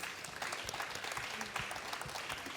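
A conference audience at an ocean summit in Genoa gives a round of applause, a steady, dense wash of many hands clapping, heard quietly from a distance with no talk.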